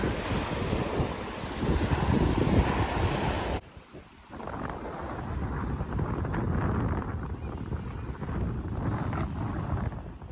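Strong wind buffets the microphone over the steady wash of sea waves on the coast at Aarhus, Denmark, the roar dipping briefly before building again.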